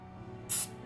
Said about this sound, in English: spray a bundt pan liberally until you get into all those little cracks